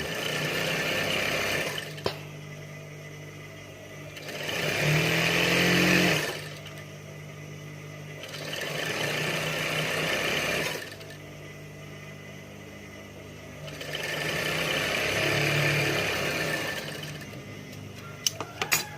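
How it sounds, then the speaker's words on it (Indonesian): A sewing machine runs in three long bursts of tacking stitches on a mukena prayer garment, steady whirring with short pauses between, close and loud with no talking. "Ya, sampai akhir dijahit. Ini hanya sekedar jahit bantu aja."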